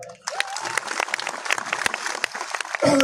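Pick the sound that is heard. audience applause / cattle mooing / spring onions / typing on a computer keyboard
audience applause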